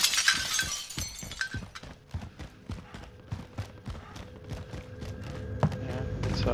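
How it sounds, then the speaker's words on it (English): Glass being smashed in a multiplayer shooter game, with a burst of shattering at the start followed by a rapid series of sharp cracks and footstep-like knocks, fairly close and loud. "Are you breaking glass?"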